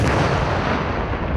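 Military weapons fire at a training range during a joint army exercise, a loud, dense barrage of booming blasts and gunfire that fills the whole moment without pause.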